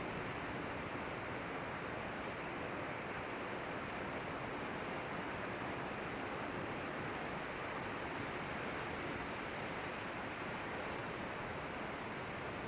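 Steady broadband ocean surf washing in continuously behind an outdoor exercise routine, a constant loud roar of waves with no voices over it.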